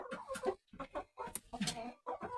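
Laying hens cluck in short, close bursts with brief pauses between, a soft chattering series of calls.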